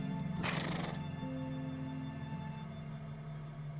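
The horse Hazel in a Changeling Tale video game gives a short huffing snort, then a clear close whinny that tails off into quieter breathy snorts, with no talking.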